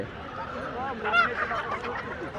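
Native village chickens at a traditional poultry market in Bangladesh give short, faint honking cackles amid general market murmur and nearby voices.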